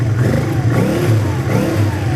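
A 1983 Honda Ascot motorcycle engine idling close by, a steady loud mechanical rumble with light clatter, no talk.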